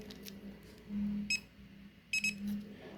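An RFID lock gives short electronic double beeps as a key card is programmed, two quick high chirps near the middle and another pair near the end, faint over a low hum.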